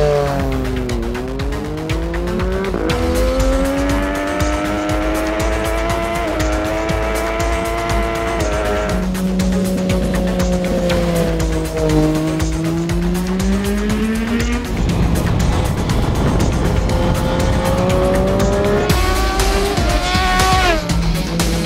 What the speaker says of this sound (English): get some bike laps in with no one else on it.